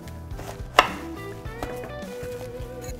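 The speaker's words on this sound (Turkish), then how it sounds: "Şu an bir dilim keselim." A kitchen knife cuts through cabbage for coleslaw on a cutting board, with one sharp crisp chop followed by lighter, irregular cutting taps at close range.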